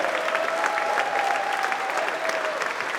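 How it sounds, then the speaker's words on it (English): An audience claps at a ribbon cutting ceremony, a thick, even wash of applause that carries on steadily and fairly loud, with a faint voice briefly threaded through. "give a round of applause to the driver in this project, Kenny Holdsman"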